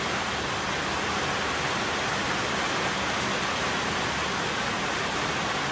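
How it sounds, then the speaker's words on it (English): Heavy rain in New South Wales pours down as a dense, unbroken hiss, loud and steady from start to finish with no voices. "It doesn't normally rain like this in little old New South Wales, but at the moment it's every day."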